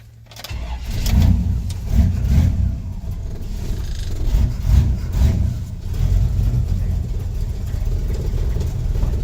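A 1966 Chevy II Nova wagon engine cranks briefly and fires, then settles into a rough, rumbling idle with a few blips of throttle, heard close and fairly loud.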